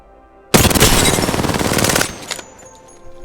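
An R9 gun in the video game Apex Legends fires a single rapid automatic burst of about one and a half seconds, loud and close, which cuts off abruptly and leaves faint ambient game sound.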